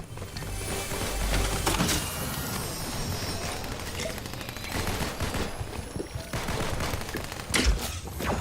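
Gunfire in Fortnite, a battle royale shooter: scattered rapid shots and bursts at varying distances over a busy game soundscape, with a few louder close cracks.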